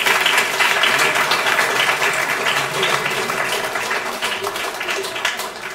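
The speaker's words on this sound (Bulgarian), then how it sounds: "Аплодисменти за тях." Sustained applause from a graduation ceremony audience for the class of 2018, a dense even patter of many clapping hands that fades slightly toward the end.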